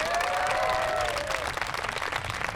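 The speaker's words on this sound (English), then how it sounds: "Give him a round of applause already" Applause from the crowd at The Dalles High School 2021 graduation ceremony as the commencement speaker, Nate Morris, is introduced, a dense steady clapping filling the space with a faint tonal squeal running through it.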